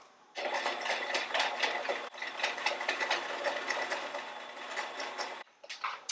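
A sewing machine runs in a steady mechanical rattle close to the edge of a fabric wristlet, stitching continuously for about five seconds with a brief hitch midway, then stopping.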